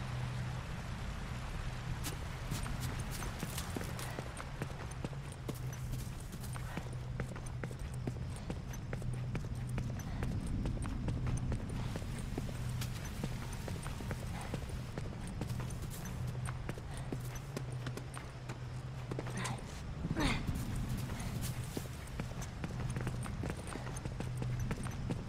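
A horse's hooves clip-clop steadily in The Last of Us: Left Behind, an even rhythmic clatter lasting throughout over a low, constant hum.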